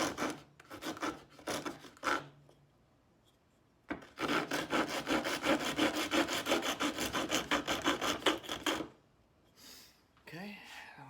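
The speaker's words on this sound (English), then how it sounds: "because this is such a coarse tool, it removes wood fairly quickly" A coarse rasp file scrapes wood from a scrap 2x4 being shaped into beehive frames, with close rhythmic rasping strokes in two bursts, short then long, separated by a pause, and a brief voice at the end.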